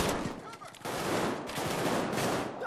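Dense, continuous gunfire rattles in the video game Payday 2, a loud wash of rapid shots and bursts filling the whole stretch without pause.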